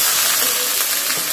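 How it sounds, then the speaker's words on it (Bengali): Capsicum frying in a pan for vegetable pulao, a steady close hiss and sizzle that runs continuously through the short moment with no voices. "কিছুক্ষণ ভাজার পর তারপরে আমি ক্যাপসিকামটা দিয়ে দেবো।"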